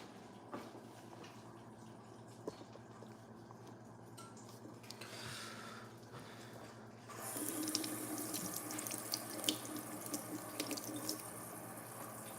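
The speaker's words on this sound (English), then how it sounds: "Let me bring you guys over here so I can wash my hands." A kitchen tap runs while hands are washed at the sink, a quiet trickle that swells into a steadier, louder stream after the midpoint, with light clinks and no talk.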